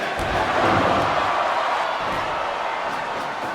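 A wrestling arena crowd roars with a steady, dense wash of cheering and shouting that swells slightly early on, heard from within the audience and sustained throughout.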